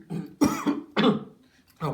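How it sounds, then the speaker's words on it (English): Several close, harsh coughs come in quick bursts with short pauses between them, mixed with throat clearing and a bit of voice. "I have a cough"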